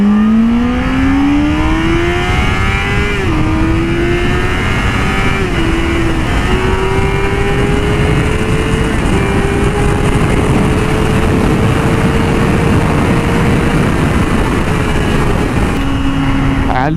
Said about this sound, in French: c'est une tuerie cette moto. Elle fait un bruit et elle est chicanée.